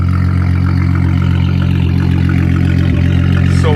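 Mk3 VR6 turbo engine running without a muffler, a loud, raw, steady low drone with strong harmonics, close up and continuous, with no talking.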